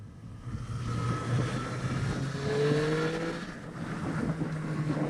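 A 2023 Triumph Street Triple 765 RS motorcycle engine revs and climbs in pitch as it accelerates, rising and falling over a few seconds amid wind rush.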